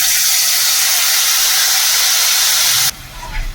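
A paste of cashews, raisins, melon seeds, tomato and chilli hits a hot pan with a loud, steady sizzling hiss that suddenly drops to a softer bubbling sputter near the end.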